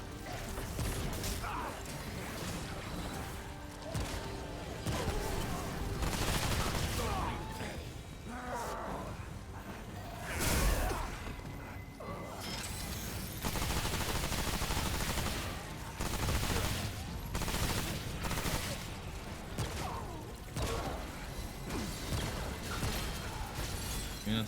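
SMG gunfire in a video game, with rapid bursts and volleys recurring over a busy, noisy stretch that also carries clanks and shattering, and some voices talking.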